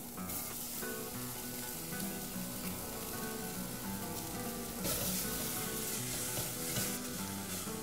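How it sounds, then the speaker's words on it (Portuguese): Chopped onion frying in a pan, giving a steady, dense sizzle that runs through the whole stretch, with a faint tonal background hum underneath. "Vamos colocar a cebola"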